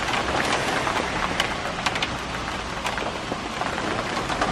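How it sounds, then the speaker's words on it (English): Steady rain falls and patters on surfaces nearby, a dense continuous hiss with scattered sharper drops and no voices over it. "You want to get hit by that rain?"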